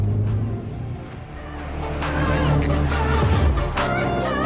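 A Mitsubishi Evo 6.5 TME with a turbocharged 2-litre 4G63, titanium turbine turbocharger and free-flowing muffler revs steadily nearby, its engine note rising and falling with faint voices in the background.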